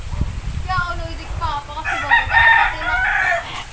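A wild junglefowl rooster crows in overgrown brush, a clear multi-part crow rising and trailing off, moderately near, over outdoor ambience and soft rustling footsteps.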